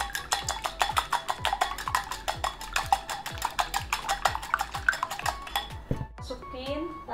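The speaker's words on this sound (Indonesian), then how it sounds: "aku mau kocok telurnya dulu ya" Eggs being whisked in a bowl: rapid, steady clinking strokes of utensil against the bowl for about six seconds, then the beating stops and a brief softer sound follows.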